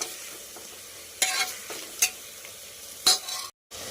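Tomato rice ingredients get stirred in a hot pan: a low sizzle runs underneath while three or four distinct scraping strokes of a spoon rise above it, then a brief cut to silence.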